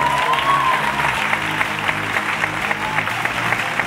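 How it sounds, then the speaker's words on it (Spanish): A crowd at a beauty pageant, Nuestra Belleza Interna 2015, bursts into steady, dense applause, many hands clapping together at an even loudness for several seconds. "Fuerte el aplauso para esta buena noticia"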